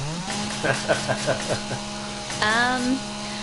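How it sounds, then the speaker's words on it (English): A chainsaw in the video game 7 Days to Die runs with a steady engine drone and revs up partway through, under players' talk. "I'll stick with the chainsaw."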